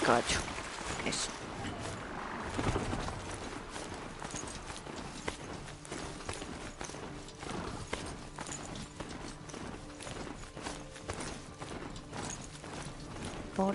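In Horizon Zero Dawn, quiet, continuous clip-clop of a horse at a gallop, with mechanical ambience and some speech over it.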